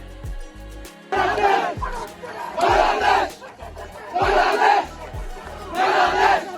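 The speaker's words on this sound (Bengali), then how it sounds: "গ্যালারিতে তখন কান ফাটানো স্লোগান বাংলাদেশ বাংলাদেশ" Stadium crowd at a Bangladesh football match chanting "Bangladesh" in four loud, rhythmic surges, each roaring burst separated by short pauses, with a pounding drum beat underneath.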